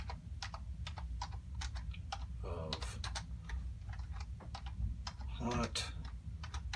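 Rapid clicking keystrokes on a computer keyboard while text is entered into a Google Sheets box, steady irregular taps up close, with a voice speaking over part of it.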